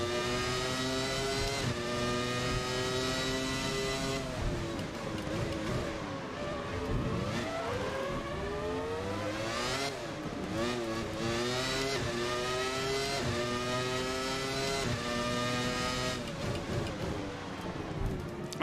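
A racing car engine in a motor racing video game, revving up and down through gear changes for a long stretch, a steady, fairly close whine rising and falling in pitch with no talking.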